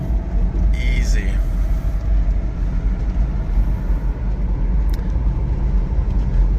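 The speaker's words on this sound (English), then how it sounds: "another kick down. Watch the RPMs. Yeah, she got all her power, easy." Engine of a 1994 Toyota Land Cruiser FZJ80 on a kick-down, a loud, steady low rumble heard from inside the vehicle under a person's voice.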